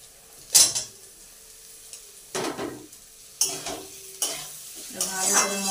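Pre-fried potatoes are tossed into sizzling masala in a pan, giving several separate bursts of stirring and crackling sizzle with quiet gaps between them.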